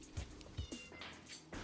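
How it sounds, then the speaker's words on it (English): A cat meows a few short times in the background, faint and somewhat distant, amid quiet room sound during a game stream. "You hear the kitty in the background?"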